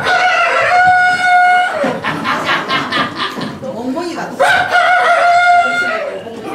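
A man on stage imitates a rooster's cock-a-doodle-doo with his voice at a comic impression show, two long loud crows separated by a burst of chuckling sounds, filling the clip.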